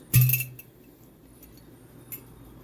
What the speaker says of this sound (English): Take the moon water and I pour a glass.